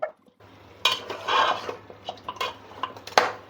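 A spoon stirs mutton bone marrow with ginger and garlic in a pan, giving a series of close scraping clinks and knocks over a faint low sizzle, with no talk.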